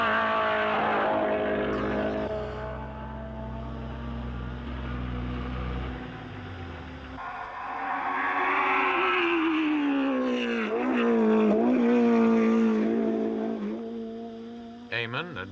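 A March 701 racing car engine running with a steady, buzzing harmonic drone that drops, then climbs in pitch as it revs, loud and fairly close, ending with a short rough burst.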